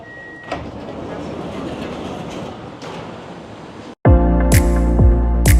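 A loud, rumbling Bucharest metro train near Piața Obor station with broadband rattling noise, then a sudden harsh, clattering surge of metallic screeching and rhythmic wheel clacks close by.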